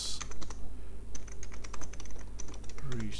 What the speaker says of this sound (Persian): مهم نیست به چه ترتیبی تایپ میکنم